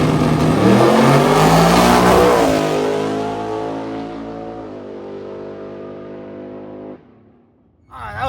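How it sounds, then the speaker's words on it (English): A pro-charged LS-engined Plymouth drag car launches and accelerates hard down the strip, a loud roaring engine rising in pitch then receding into the distance before a brief burst of crowd noise. "It's a pro-charged LS car in the Plymouth."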